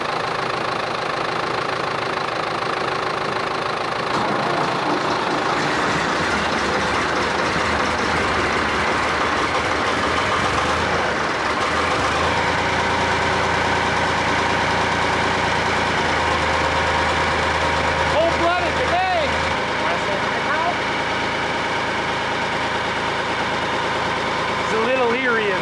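Ford open-air tractor engine idling outdoors, a loud, steady low rumble with a knocking beat that runs throughout while a person talks over it.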